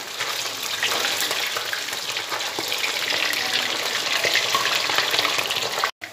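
Fish frying in a pan of hot oil gives a loud, steady, close sizzle that holds without a break, then cuts out briefly at the very end.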